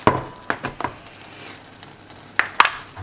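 Leek and white wine sauce reduces in a pan with a soft, steady sizzle, broken by a few sharp clinks of a utensil stirring against the pan.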